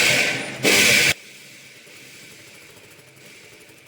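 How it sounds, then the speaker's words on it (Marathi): A sewing machine runs in a short loud burst while stitching the shoulder seam of a katori blouse, then stops, leaving a quiet room hum. "मी इथे एक शिलाई थोडीशी टाकत आहे"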